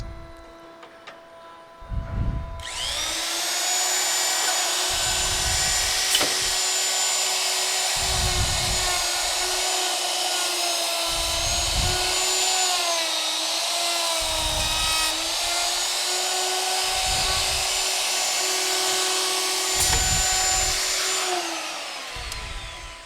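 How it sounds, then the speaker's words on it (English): A power tool cuts a hinge mortise into a fresh door and jamb, a loud, steady high whine that holds for about twenty seconds before winding down, with faint low thumps recurring underneath and no speech. "We're going to mortise a hinge mortise."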